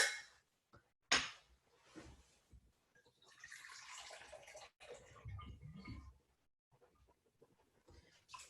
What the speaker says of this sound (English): And we're going to add a little water.